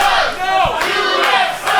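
A wrestling crowd at an MPW Legends Night event roars and chants against the champions, with loud rhythmic surges of massed voices close by.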